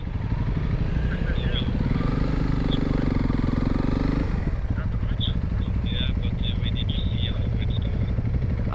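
Adventure motorcycle ridden off-road on a trail in Portugal, its engine droning loud and steady up close with clattering over rough ground, pitch shifting midway through, accompanied by wind rumble.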